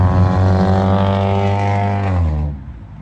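A loud vehicle with no muffler roars past, its harsh engine drone sliding down in pitch as it goes by and then fading quickly.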